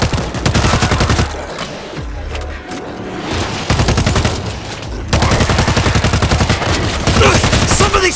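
Loud, continuous automatic gunfire in the zombie shooter World War Z, rapid bursts of close shots in long runs broken by brief pauses, dense and relentless.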